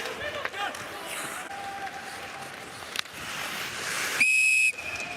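A referee's whistle shrills sharply at an international ice hockey game, one loud blast near the end rising over crowd noise and rink chatter, with people talking nearby.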